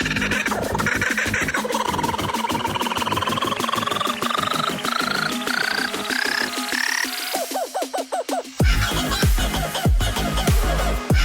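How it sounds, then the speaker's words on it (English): Kookaburra call samples are cut and arranged into a song, with rhythmic chopped cackling bird calls and rising laughing phrases repeating over a driving beat, loud and continuous, ending on heavier bass hits. "This song is made out of a kookaburra."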